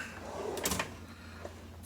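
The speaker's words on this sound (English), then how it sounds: "Let's go over here and take a peek in these drawers over here." A drawer in a Mac Tools MB1510 tool box being pulled open, a single brief sliding rumble with a soft metallic clack near the middle, close by and moderately loud with no talking.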